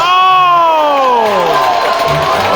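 A live crowd at a Muay Thai main event rises in a standing ovation, a loud sustained roar of cheering with a shrill falling tone sweeping down across the din.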